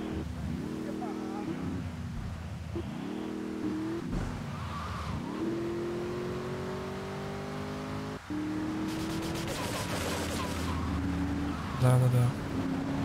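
A battered car in GTA 3 Definitive Edition revs repeatedly, its engine pitch climbing and dropping through gear shifts, then roars on with a brief tire screech, loud and continuous.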